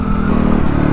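A CX 250 SE dirt bike cruising on a highway gives a loud, steady engine drone with a low rumbling hum, heard close and alone for about a second.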